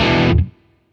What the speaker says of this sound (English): I'm now on the crunch channel, which sounds like this.